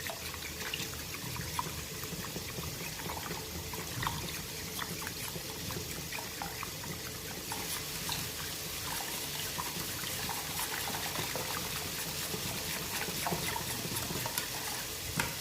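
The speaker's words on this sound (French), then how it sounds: "on vient vite mélanger avec le fouet énergiquement" Butter and flour are whisked briskly in a pan with milk for a béchamel, giving a continuous wet stirring and light sizzling texture, fairly quiet and even throughout with no voices.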